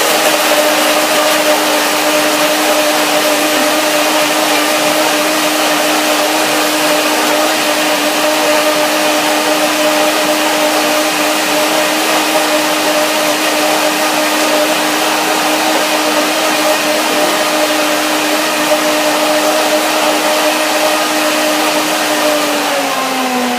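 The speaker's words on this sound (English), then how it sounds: "Again, I use the blender." A blender runs steadily at high speed, pureeing persimmon and pear for a raw vegan pudding, a loud continuous motor whine with a slight pitch drop near the end and no talking.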